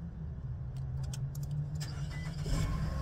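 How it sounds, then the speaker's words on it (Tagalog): A car engine turns over and fires up for the first time after purchase, a steady close rumble swelling toward the end, with no talking. "At ito yung first start."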